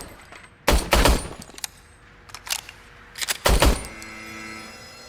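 Service weapon fired at a shooting range in a video game: two loud, close bursts of rapid gunfire separated by a few seconds, with fainter single shots and mechanical clicks in between.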